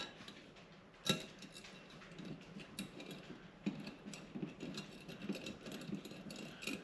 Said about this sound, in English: we're going to take the new bracket with the screws and screw them in